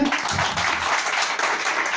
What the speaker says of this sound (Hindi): एक बार जोरदार ताली मारिए।